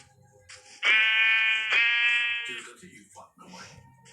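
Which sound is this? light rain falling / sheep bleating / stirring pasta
sheep bleating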